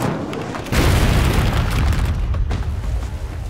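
A falling meteor crashes down in an animated fantasy series, a loud, sudden boom that sets off a dense roaring rumble and holds steady for a few seconds, then thins slightly toward the end.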